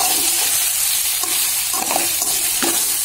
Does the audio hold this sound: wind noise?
no